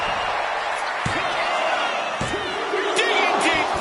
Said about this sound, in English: What a counter, power slams.